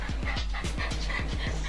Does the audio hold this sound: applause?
no